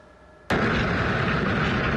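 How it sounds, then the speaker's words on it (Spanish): Gunfire from rifles and anti-aircraft weapons rings out over Caracas at night, a sudden loud onset after near quiet that turns into a dense, sustained roar of bursts with no voices. "ráfagas de disparos de fusil y fuego antiaéreo alteraron la noche en Caracas"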